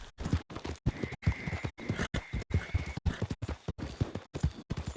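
A horse's hooves clopping in Red Dead Redemption II, a steady, close clip-clop walking rhythm of distinct hoof strikes, loud and alone with no talking.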